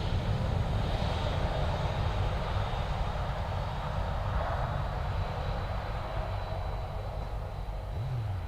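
A Ryanair airliner out of Stansted roars steadily at a distance, its broad jet rumble continuous and fairly faint over the airport surroundings, with no voices.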